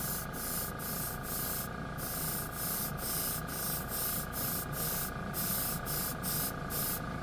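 An airbrush sprays a light gray primer coat over a model part, a steady hiss broken by short regular bursts as the trigger pulses, close and fairly quiet with no talking.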